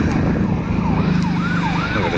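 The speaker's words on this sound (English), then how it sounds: "now there's an ambulance responding" An ambulance siren responding on a Montreal street, its wailing tone rising and falling in sweeping cycles over loud, rumbling nearby traffic and outdoor noise.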